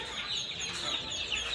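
Chickens clucking in a poultry shop selling ducks and hens, a short burst of overlapping clucks and squawks at moderate distance with busy background noise.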